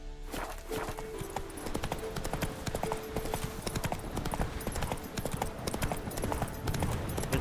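Horse hooves from The Witcher 3 video game clip-clop in a steady trotting rhythm against busy in-game ambience, with a brief whinny-like tone near the start.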